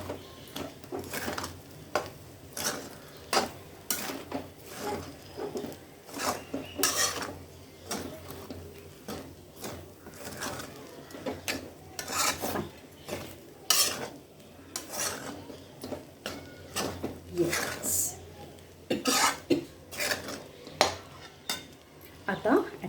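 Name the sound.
stirring sabudana khichdi in a pan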